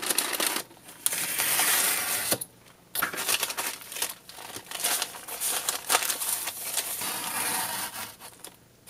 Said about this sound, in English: What I'm going to do first, though, I'm going to cut out sections.